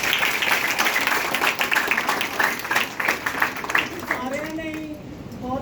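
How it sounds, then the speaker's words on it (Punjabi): Students clap at a school award ceremony, a steady wash of applause that runs throughout and thins toward the end, with voices talking underneath. "ਸਾਰੇ ਸਟੂਡੈਂਟ ਪਹਿਲਾਂ ਆਪਣੇ ਲਈ ਇੱਕ ਵਾਰੀ ਜ਼ੋਰਦਾਰ ਤਾਲੀਆਂ"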